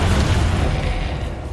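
Spell explosions from the video game Hogwarts Legacy: a continuous, loud, rumbling boom with deep low-end weight that slowly eases over its short length, with no voices.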